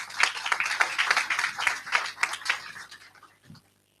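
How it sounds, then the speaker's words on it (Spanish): Audience applause welcoming a speaker at a debate on social intervention in disasters and emergencies, a dense patter of many hands filling the room for about three seconds before fading out, with a faint voice at the very end. "Nuevamente un aplauso y bienvenida."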